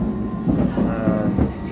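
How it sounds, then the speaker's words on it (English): A London Underground Metropolitan line train runs along the track, a loud steady rumble with rhythmic rail clatter heard from inside the carriage. "Yeah, I'm on my train right now."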